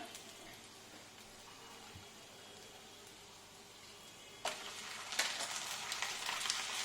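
Green chillies drop into a hot frying pan for a Bengali chicken bhuna khichuri, giving a steady crackling sizzle that grows louder and brighter midway through, close and with no talk.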